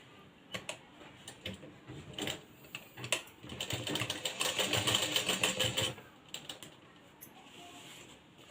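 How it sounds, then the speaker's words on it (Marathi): A sewing machine stitches a binding strip onto a blouse neckline with a quarter-inch margin, a rapid clattering run that swells louder in the middle and then breaks into short, stop-start bursts, close by with no talk over it. "पाव इंचाचं फक्त मार्जिन ठेवून आपल्याला ब्लाऊजला शिलाई मारून घ्यायची आहे"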